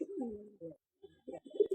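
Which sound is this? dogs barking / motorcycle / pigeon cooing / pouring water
pigeon cooing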